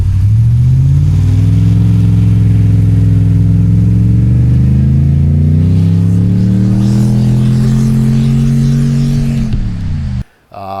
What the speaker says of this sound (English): It's an MBRP. It's got a nice resonator, so it gives it a good throaty sound